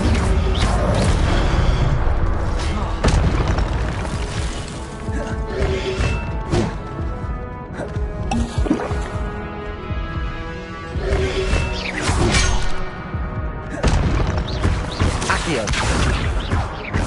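Spell effects from Hogwarts Legacy gameplay on PS5: loud, dense bursts of crashing, whooshing and thudding impacts layered over continuous game music and ambience, with sharp hits recurring every few seconds throughout.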